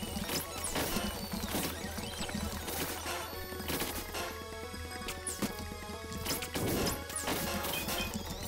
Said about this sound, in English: Whoa, he has a sonic boom attack!